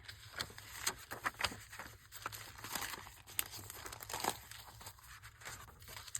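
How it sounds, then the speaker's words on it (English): Noisy paper is crinkled and handled while making a blue winter journal, producing continuous faint rustling and crackling with scattered sharper crinkles, close but quiet. "I've got some noisy paper"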